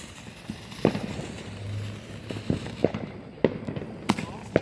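A Color Me Bad consumer firework goes off at night as a series of sharp, scattered bangs and crackling pops at moderate distance, with faint voices in the background.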